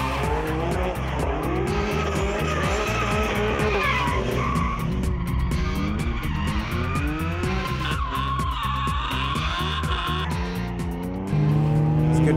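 A car is driven hard with traction control and the sport button switched off: loud, sustained tire squeal and skidding over a revving engine that rises and falls, with no talking.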